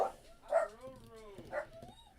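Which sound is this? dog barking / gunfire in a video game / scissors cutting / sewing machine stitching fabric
dog barking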